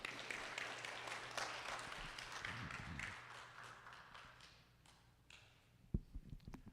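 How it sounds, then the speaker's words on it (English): Audience applause for a county sheriff and his staff at a senior scams seminar, a steady wash of many hands clapping for several seconds, then thinning out into a few scattered, closer claps. "I'd like a round of applause for our sheriff and his staff"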